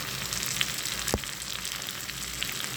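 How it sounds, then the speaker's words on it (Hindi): Ground spices fry in a pan for egg ghotala: salt, red chilli, coriander, whole dried chillies and turmeric. A steady, close sizzle runs throughout, with one sharp clink partway through. "और मसाले को अच्छी तरीके से भून लेंगे।"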